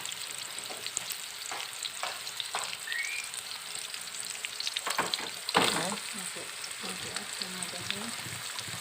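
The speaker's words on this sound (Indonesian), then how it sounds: "bawang putih, bawang merahnya untuk kita tumis" Garlic and shallots sizzle while being stir-fried, with a steady crackle broken by scrapes and knocks of a spatula against the pan and a louder stir midway. The sound is fairly soft and close.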